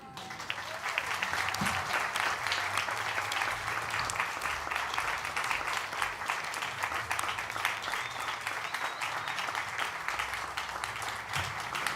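A seated audience gives its special guests and their support workers a long, dense round of applause, an even roar of many hands clapping that lasts the whole stretch, with occasional faint calls.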